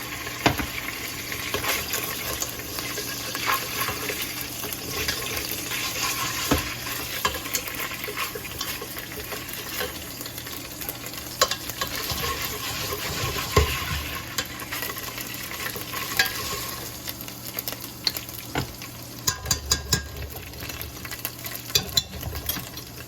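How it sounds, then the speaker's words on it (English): Garlic sizzles steadily in hot olive oil in a pan for a spicy tomato sauce, a continuous close frying hiss with occasional clinks and stirring scrapes and no talking. "now we're gonna start cooking that garlic"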